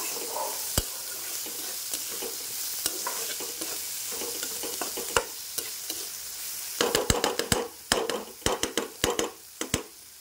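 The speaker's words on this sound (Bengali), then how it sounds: "ব্যাস, এবারে নাড়িয়ে চাড়িয়ে নেব।" Cabbage mash for a bharta fries in a pan over a low flame, giving a soft, steady sizzle, while a utensil stirs and scrapes with sharp taps that grow quick and clustered toward the end.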